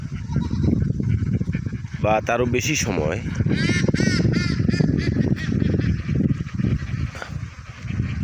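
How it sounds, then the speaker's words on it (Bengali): Khaki Campbell ducks on a farm give nasal, honking quacks in a close, busy cluster, heard under a person talking steadily throughout. "আপনাদেরকে দেখাচ্ছি একটি খাকি ক্যাম্বেল হাঁসের খামারের কিছু হাঁসের দৃশ্য"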